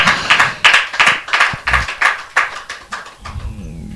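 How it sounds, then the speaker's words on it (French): A handful of audience members clap for performing artists in a steady, even rhythm, fairly loud and close, then trail off near the end with no voices. "Je demanderai au public d'applaudir pour tous les cassessistes, s'il vous plaît."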